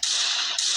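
A pistol shot in a video game, one loud burst lasting nearly a second with a brief dip before a second blast; no one talks.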